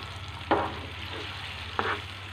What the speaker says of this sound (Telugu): చూస్తున్నారా, ఇలా తాలింపు అంతా కలుపుకోవాలి.